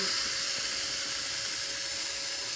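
A drill spins a typewriter ribbon on small prongs cut from a coat hanger, giving a steady, close, high-pitched motor whine that runs unbroken with no talking.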